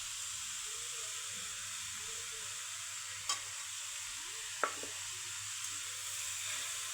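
Cabbage for a veg momo filling fries in a pan with a steady, fairly quiet sizzle and hiss, broken by two brief utensil clicks.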